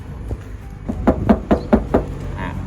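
Knuckles rap on the door panel of a four-door Toyota Hilux Revo being fitted with sound deadening, about six close, dull knocks in a quick uneven series, then quiet.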